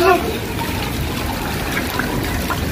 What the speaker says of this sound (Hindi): नाले में से पानी आ रहा है ऊपर पर